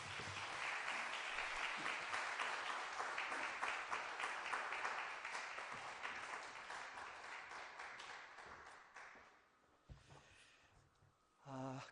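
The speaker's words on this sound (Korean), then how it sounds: "큰 박수로 앞으로 모시겠습니다" A church congregation at a Bible revival meeting gives a pastor a big round of applause, dense clapping from many hands that holds steady, then thins and fades toward the end, faint and somewhat distant.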